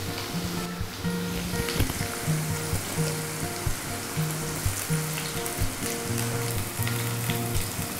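Onions frying in a pan with a loud, continuous sizzle and crackle close by, a low tonal hum running underneath the whole time.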